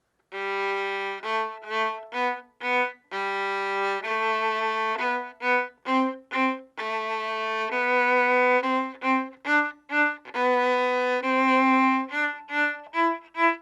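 A bowed string instrument plays a stepwise scale, each pitch in a long note followed by quick shorter repeated strokes, clear and solo.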